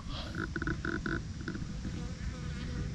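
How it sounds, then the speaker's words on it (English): Bee and houseflies buzzing around a dish of wet organic cat food outdoors, a steady close hum with intermittent louder buzzing bursts over low rumbling background noise. "That bee been putting in work. These flies been putting in work."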